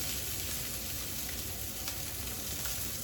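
Continuous crackling sizzle of salmon frying skin-down in a hot pan, steady and close, with small pops scattered throughout.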